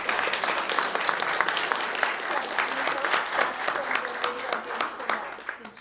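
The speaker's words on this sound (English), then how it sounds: "can we give another applause for Sammy?" An audience claps for Sammy after a beautiful performance, a soft, continuous patter of many hands at moderate distance with a few crisp individual claps standing out, and faint voices mixed in.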